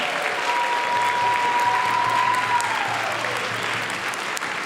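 Audience applause for event participants at a daytime celebration, a dense, steady clapping that fills the whole stretch at even loudness, with a faint held tone running through the middle.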